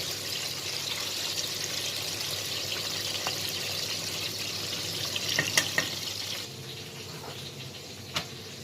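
Eggplant slices fry in hot oil, a dense, steady crackling sizzle that carries on throughout, with a few sharp clinks of a utensil, the sizzle easing slightly near the end.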